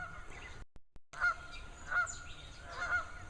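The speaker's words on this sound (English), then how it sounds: "You can probably hear the Canadian geese going." Canada geese honking outdoors near water, three distinct nasal honks spaced about a second apart, moderately distant, over a faint steady background hiss with a brief dropout early on.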